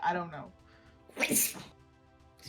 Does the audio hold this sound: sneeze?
yes